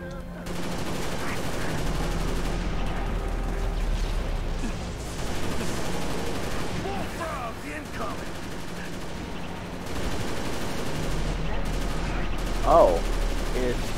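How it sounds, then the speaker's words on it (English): Weapon fire from a barrel launcher in the modded shooter Halo Reach (Cursed Halo mod), a busy stretch of repeated shots and booms mixed with battle noise and low rumble, with game voices shouting now and then. "it's quite literally a barrel launcher"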